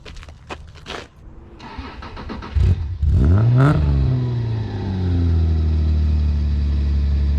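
A Subaru XT6 engine cranks and catches after a few clicks, revs up loudly, then settles into a deep, steady idle close by.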